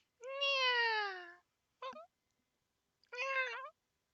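A cat meows three times, fairly close: a long drawn-out meow, a brief chirp, then a shorter meow after a pause, with silence between.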